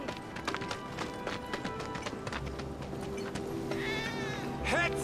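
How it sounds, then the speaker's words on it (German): Cat meowing in Final Fantasy VII Remake, a short meow near the end heard over steady clip-clop footsteps and background game ambience. "War das nicht gerade ein Mauzen?"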